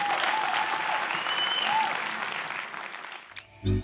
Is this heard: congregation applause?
yes